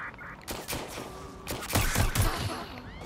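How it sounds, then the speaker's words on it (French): Gunfire aimed at the player in Watch Dogs: Legion cracks in several sharp bursts over game ambience, loud and close, with some brief background noise between volleys. "On me tire dessus?"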